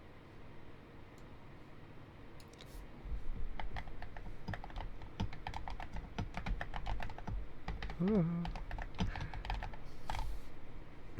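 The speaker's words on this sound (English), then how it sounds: "just hear my keyboard in the background" Steady, rapid typing on a computer keyboard close to the microphone during a calm ASMR stream, a dense run of light clicks and clacks that grows busier midway, with a single brief spoken word.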